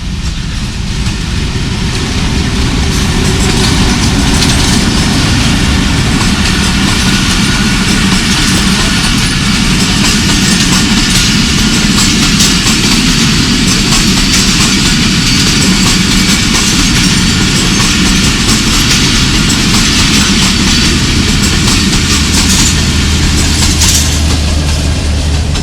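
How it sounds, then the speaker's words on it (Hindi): Train 128 Down runs through Gagan railway station behind an HP20 locomotive, a loud, constant roar of engine and rolling wagons with rhythmic rail clatter that goes on without a break. "128 डाउन थ्रू पास होगी गगन रेलवे स्टेशन से।"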